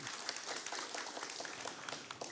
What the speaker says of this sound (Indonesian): Boleh berikan tepuk tangannya Bapak Ibu yang ada di sini